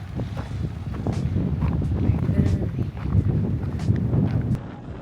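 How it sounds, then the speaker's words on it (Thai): Strong, cold wind on the Isle of Skye in Scotland on the walk to the Fairy Pools, roaring steadily and buffeting the microphone with a dense low rumble that never lets up. "ลมแรงมากอะอยากบอกว่าลมแรงมาก ลมแรงแรง ลมแรงขั้นสิบ"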